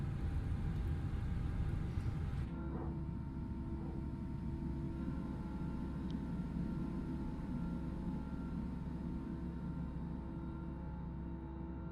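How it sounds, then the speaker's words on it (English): Airbus A320 engine number 1 spooling up in Microsoft Flight Simulator, a low steady rumble with a thin rising whine, after a brief noisy burst at the start, then settling into an even hum. "Let's start engine number 1."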